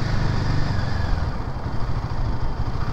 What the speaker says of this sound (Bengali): এতটা স্মুথ একটা ইঞ্জিন, মানে এতটা পাওয়ারফুল একটা ইঞ্জিন যে রয়্যাল এনফিল্ডের ইঞ্জিন মনে হচ্ছে না এটাকে